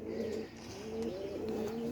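Pet pigeons kept in Rajshahi, out and moving around, giving soft repeated low coos, close and fairly quiet, with no talking.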